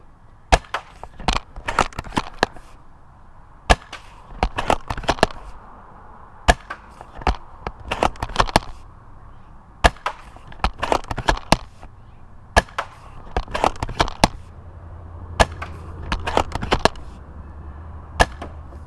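Repeated sharp cracks from a double-bell VSR10 airsoft sniper rifle being fired, shooting around 500 fps, irregular bursts of close loud shots with short gaps over a low background hum.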